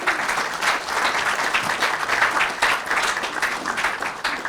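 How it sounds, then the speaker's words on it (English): A town hall audience applauds public safety workers at a State of the Town address: steady, dense clapping from a large crowd, loud and continuous throughout, with no talk. "Let's give them a round of applause"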